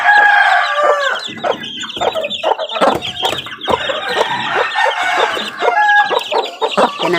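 Talisay-breed chickens and chicks cluck loudly and continuously close by, with a rooster crowing over the busy chatter of the flock.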